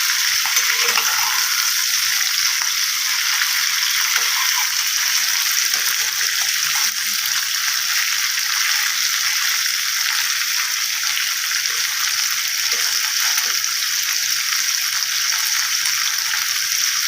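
Prawns sizzle in hot oil with a steady, loud crackling hiss that continues without a break, with no talking.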